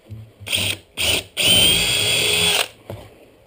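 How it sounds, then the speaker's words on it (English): A power drill with a quarter-inch bit drills a pilot hole in a bee box, whirring in two short bursts, then running in one longer steady spin before stopping. It is close and loud. "just pre-drill one, the quarter inch bit"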